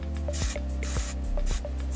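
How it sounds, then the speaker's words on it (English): Several short hissing bursts of Moroccanoil hairspray sprayed onto hair, fired in quick succession over a steady background hum. "we're gonna go ahead and spray everything, especially down at the roots and like your edges, with any hairspray"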